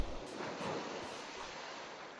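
Ocean waves by the shore in Minecraft, a soft broadband wash of surf, faint and steady, with no voices.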